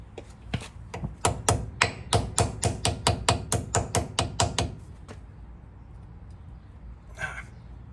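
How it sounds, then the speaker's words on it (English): A hammer tapping the front brake dust cover on an '83 Mustang Fox-body: a quick run of about fifteen sharp metallic taps in steady rhythm, close and clear, then quiet. "Get my hammer, give her a few taps for good measure."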